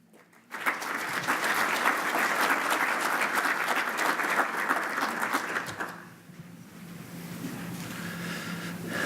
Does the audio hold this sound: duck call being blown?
no